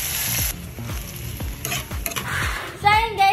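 Butter and garlic sizzle loudly in a hot pan for pancit canton, a constant close crackle broken by rhythmic scraping stirs and a few clinks of utensil against metal.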